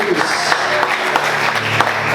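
Church congregation clapping in praise during a Portuguese-language sermon, a dense, loud wash of applause with voices and low tones mixed in.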